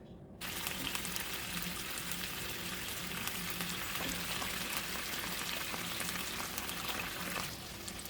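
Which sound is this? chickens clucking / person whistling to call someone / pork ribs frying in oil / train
pork ribs frying in oil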